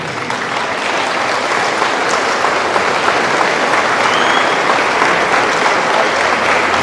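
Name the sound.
applause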